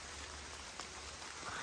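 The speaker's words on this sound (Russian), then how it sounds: "В общем, льет дождь." Steady heavy rain pouring down in a dense, even hiss of drops, continuous and moderately quiet across the short stretch.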